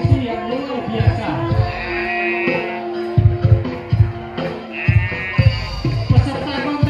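A white female dairy goat at a goat and sheep contest bleats several times in wavering, nasal calls, with someone talking underneath.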